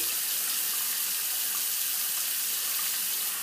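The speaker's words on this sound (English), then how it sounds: "I'm going to rinse the razor off" Tap water runs steadily into a sink to rinse a razor during a wet shave with a Barrister and Mann soap and Muhle Black Fiber synthetic brush, a continuous close hiss with no talking.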